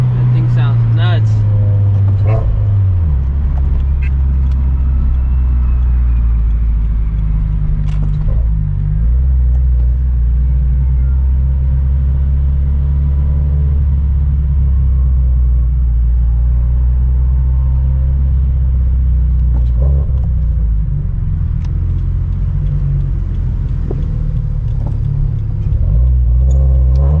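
Straight-piped turbocharged Subaru BRZ and Toyota GT86 exhausts rumble loudly and steadily at close range, with a deep droning idle and small swells in pitch, while people talk in the background of a busy gathering.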